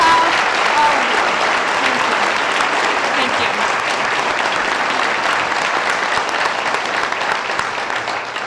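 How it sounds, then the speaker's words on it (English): Sustained applause from a county commission meeting audience honoring the Valerie's House team, a steady, dense round of clapping that holds evenly throughout without pause. "And a round of applause for the entire team here at Valerie's House."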